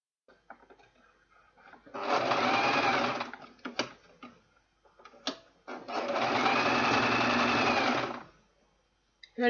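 A sewing machine stitches an Ankara fabric and leather purse in two steady bursts of a few seconds each, close and loud, separated by quieter handling clicks and rustles, with no talk.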